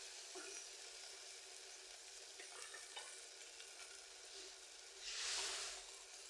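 Onion frying in oil for carrot shiro, with a splash of water added, gives a soft, steady sizzle while a utensil stirs and scrapes the pan, and a brief louder hiss bursts up near the end.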